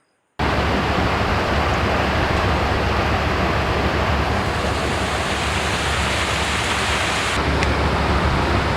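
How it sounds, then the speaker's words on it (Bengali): Rain pours steadily on the bank of the Madhumati river at Mohammadpur in Magura, a dense, even rush of falling water that starts abruptly and holds constant, with no voices. "শ্যুট করতে করতে সকাল সকালে চলে আসলো বৃষ্টি"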